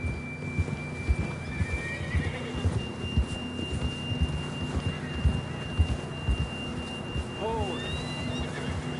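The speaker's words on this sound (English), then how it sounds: "John was riding that horse when we left Blackwater." A horse in the video game Red Dead Redemption 2 snorts and whinnies loudly near the end while hooves clip-clop steadily throughout, with a faint high tone lingering in the background.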